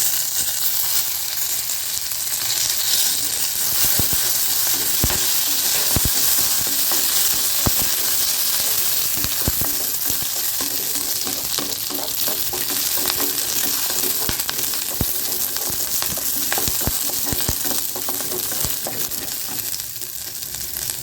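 Curry leaves crackle and sizzle in hot oil for spicy kara chutney, a steady loud frying hiss with scattered sharp pops and spatters throughout, no voices.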